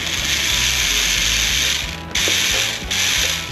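The high-power motor set of a toy pickup truck runs close by with a steady, loud high whine over a rattling, ratchety gear hum, dipping briefly twice.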